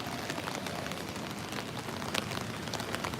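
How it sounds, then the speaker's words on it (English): A heavy Thursday downpour during a storm in San Francisco hisses steadily, dense rain drumming on surfaces with scattered louder drops and no voices. "it's raining very, very, very hard"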